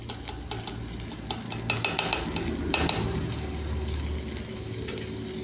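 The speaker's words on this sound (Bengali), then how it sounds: "আমি বাটার দিচ্ছি বলে এটা লাস্টে দিচ্ছি।" Butter going into mixed vegetables frying in a pan, a steady soft sizzle with scattered clinks and scrapes of a spoon against the metal.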